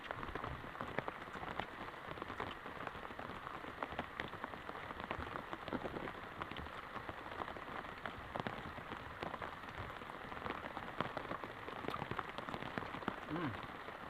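Heavy rain pours down steadily around a rural hut near rice fields, a dense, even patter on surfaces throughout, fairly distant and uniform with no break.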